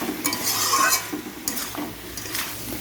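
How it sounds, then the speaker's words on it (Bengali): Prawns and okra sautéing together in a pan for a Bengali prawn curry, with a close, continuous sizzle and repeated spatula stirring strokes that scrape and clink at intervals. "এবার সব কিছু ভালো করে একসাথে কষিয়ে নেব"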